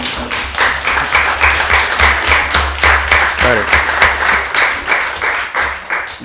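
Municipal council meeting in Ciboure breaking into loud, close rhythmic applause, many hands clapping in a steady pulsing beat, with a brief spoken word over it.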